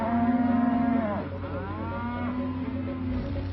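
Beef steers at a huge JBS industrial feedlot moo in long, drawn-out calls, two or more bellows overlapping against a constant low background hum, fairly close and loud.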